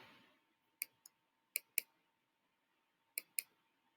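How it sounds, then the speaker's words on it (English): Computer mouse clicks in a quiet room: three crisp pairs of sharp double clicks spaced apart, close and clear with silence between. "You have to double click."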